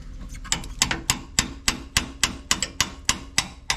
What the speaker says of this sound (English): You can tap just like that, just very gently if you wish